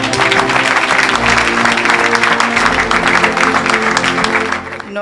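A church congregation applauds and cheers steadily through most of the time, a dense loud wash of clapping over crowd voices and music, fading out just at the end.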